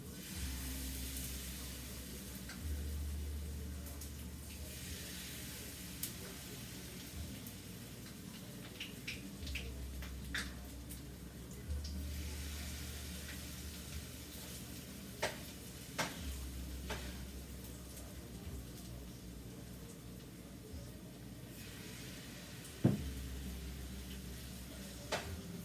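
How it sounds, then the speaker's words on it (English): Hash brown sizzling in a frying pan, a steady low hiss and crackle with occasional sharp ticks and one louder clatter near the end. "Putting my hash brown in the pan."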